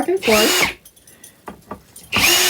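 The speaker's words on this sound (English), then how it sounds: "I'm going to use my drill." A power drill drives a screw while making hot chocolate trays, two loud whirring bursts with a quiet gap and a couple of clicks between them, close to the listener.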